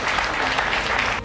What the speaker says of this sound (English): The courtroom clapped again.